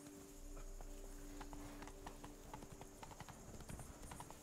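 Hooves of Roach, the horse in the video game Witcher 3, clip-clopping in a steady galloping rhythm, quiet and game-mixed, with a faint sustained tone underneath and no speech.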